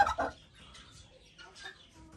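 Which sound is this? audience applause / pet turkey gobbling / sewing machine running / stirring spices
pet turkey gobbling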